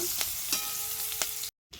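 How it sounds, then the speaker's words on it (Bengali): Onion and green chilies fry in a fish-frying pan with a steady close sizzle, broken by a few brief stirring scrapes, then a short cut to silence near the end. "আমি মাছ ভাজার কড়াইতে পেঁয়াজ আর কাঁচা লঙ্কাটা দিয়ে দিলাম। কাঁচা লঙ্কা পেঁয়াজটা দিয়ে দিলাম, এবার ভালো করে একটু লাল লাল করে ভেজে নেব।"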